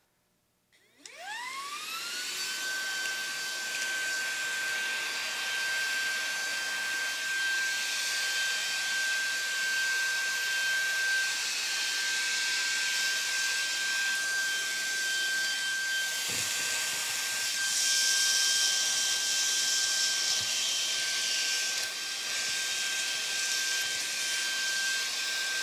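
A Roidmi P1 Pro cordless handheld vacuum cleaner starts up and runs with a loud, steady high-pitched whine and airy rushing hiss while sucking up a handful of breakfast cereal, with a brief clatter partway through.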